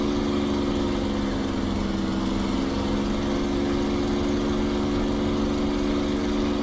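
A P-51D Mustang's piston engine drones steadily and loudly just after takeoff in the DCS flight simulator, a constant, even hum with no voices over it.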